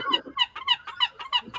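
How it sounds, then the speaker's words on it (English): A seagull gives about eight rapid, high, nasal calls in a quick rhythmic series. The calls are close and clear, with no talking. "the seagull agrees with the show"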